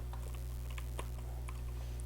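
Keystrokes on a compact tenkeyless (TKL) computer keyboard without a number pad, a steady patter of light clicks with a few sharper taps, heard close over a constant low electrical hum.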